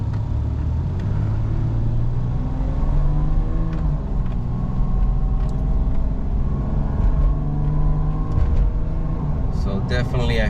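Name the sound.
Toyota Tacoma 3.4L truck accelerating while driving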